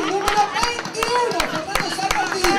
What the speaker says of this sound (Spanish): ¡Fuerte el aplauso! ¡Fuerte el aplauso!